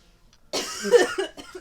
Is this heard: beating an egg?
no